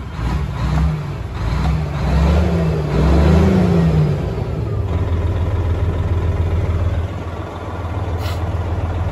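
An International 9400 truck engine rises and falls through a few throttle revs, its deep diesel drone swelling then settling back to a steady rumbling idle, close and loud.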